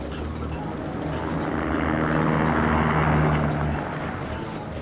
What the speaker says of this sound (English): Gabe, I just got killed by the helicopter.